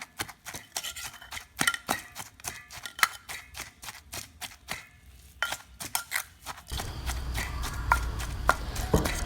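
Thai catfish, shallots, garlic and chili being pounded in a mortar with a pestle: a steady run of sharp, fairly close thuds with small pauses, then a denser, muddier stretch of pounding toward the end.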